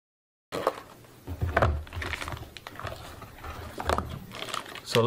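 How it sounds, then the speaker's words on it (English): Netgear WAX610 Wi-Fi 6 access point being unwrapped from its packaging: a run of close, crinkly rustles and scrapes with several sharper crackling bursts, no voice. "So let's unwrap the access point."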